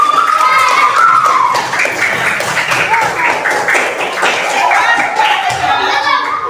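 A classroom of children applauds a teacher, steady clapping mixed with loud overlapping children's voices and chatter throughout.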